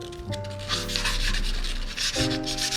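Steady abrasive rubbing of sandpaper on a bicycle rim being prepared for tubeless conversion, continuous back-and-forth scraping close up with no voices.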